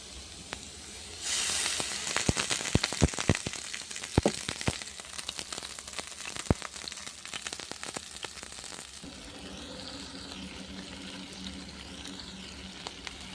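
Skewered beef stick kebabs hiss and sizzle steadily in a hot frying pan, a loud continuous frying sound with crackling pops that later eases into a softer sizzle.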